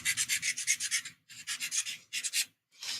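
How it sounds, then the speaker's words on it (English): Sandpaper rubbed by hand around the edges of a small handmade craft piece, heard as close, steady rasping strokes in three bursts with short pauses between them, with no talking. "make sure I sand off around the edges of this"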